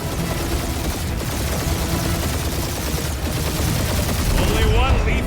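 Continuous gunfire in the game Marvel's Guardians of the Galaxy, a dense, loud barrage of rapid shots with blasts layered over a busy battle soundscape.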